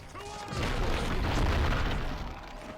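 A citadel being destroyed in the Edain Mod strategy game, heard as a rolling, heavy rumble of explosions that swells after a moment, holds loud for over a second, then eases off, with faint voices beneath.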